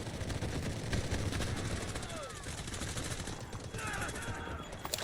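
Rapid automatic gunfire from the Delta Force video game rattles dense and steady throughout, with a voice speaking faintly beneath the shots.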